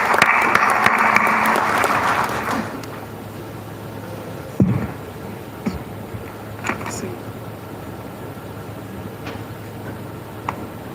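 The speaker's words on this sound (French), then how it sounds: "sous vos applaudissements, mesdames et messieurs" Audience applause at the Halieutis fisheries fair in Agadir, a dense burst of clapping in a large hall over the first two seconds that quickly dies away, leaving quiet room noise with scattered clicks and faint voices.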